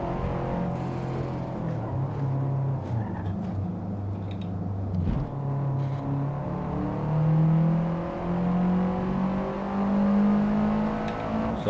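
A Subaru WRX with all-wheel drive accelerates hard, its engine note climbing in rising sweeps through the gears, heard from inside the car at moderate volume without talk.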